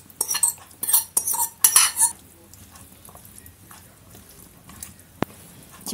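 Cutlery clinks and scrapes against a bowl while vinaigrette salad of beetroot and pickled cucumbers dressed in sunflower oil is stirred, a burst of busy clatter for about two seconds, then quieter occasional taps and one sharp click.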